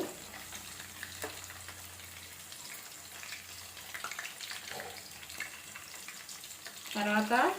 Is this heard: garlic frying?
yes